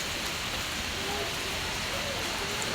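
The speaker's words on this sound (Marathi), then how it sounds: "तुम्ही बघू शकता बघा पाऊस पडतो." Steady heavy downpour, a thick continuous wash of raindrops striking surfaces close by, even in loudness from start to end, with no clear speech over it.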